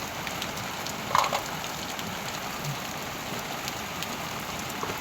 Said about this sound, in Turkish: Yağsın yağmur şart.